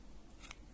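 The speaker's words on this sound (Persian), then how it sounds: "قیچی میکنم." Scissors make a quick, faint snip through crochet yarn at the end of a finished crocheted warmer, a brief crisp cut with no speech.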